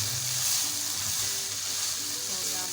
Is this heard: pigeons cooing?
no